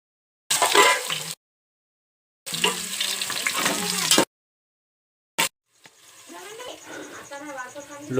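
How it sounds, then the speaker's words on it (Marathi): Onion sizzles in hot oil on a low gas flame while biryani is being cooked at home, coming in loud bursts broken by silent gaps, then a softer, steadier sizzle under a voice. "एवढ्या स्लो गॅसवर कांदा भाजून घ्या चांगला."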